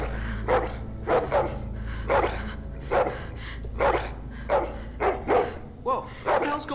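A dog barking repeatedly in The Walking Dead video game, about ten sharp barks in a steady rhythm over a low hum, fairly close and loud.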